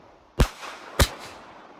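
Two sharp firework bangs in the video game Fireworks Mania, about half a second apart, each loud and close with a brief crackling tail and no talk over them.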